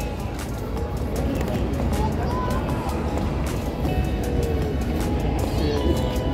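A train rolling over a bridge across the Ganges near a ghat at evening, heard as a continuous deep rumble with rattling clatter, steady and fairly distant, with faint voices around.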